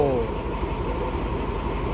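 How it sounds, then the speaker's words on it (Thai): Diesel train 790 idling after its engine starts at a station, a steady low rumble holding throughout with a brief rising tone at the very start. "ขบวน 7 90 ได้ทำการสตาร์ทเครื่องยนต์ เพื่อเตรียมตัวเดินทางไปยังสถานีไฟชุมทางบ้านลุงโพ"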